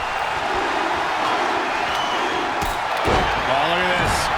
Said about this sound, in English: This crowd is thunderous right now